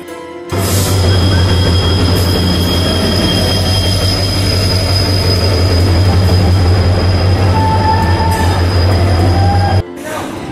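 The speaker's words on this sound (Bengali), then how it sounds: "ট্রেন চলে গেল, আমরা উঠতে পারলাম না" A train pulls out of a station with a loud, close, continuous rumble of rolling wagons and a high, steady wheel squeal that runs unbroken for about nine seconds before cutting off abruptly.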